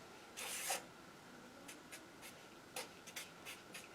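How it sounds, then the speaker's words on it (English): Marker or chalk drawing on a board, with one longer scraping stroke early on followed by several short, quiet strokes spaced apart in a quiet room. "let's draw him again"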